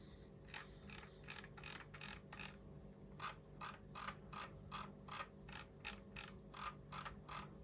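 Logitech G502 X Plus mouse scroll wheel spun freely, a faint, close run of quick mechanical ratcheting clicks in bursts with brief pauses, over a low steady background hum, no voices.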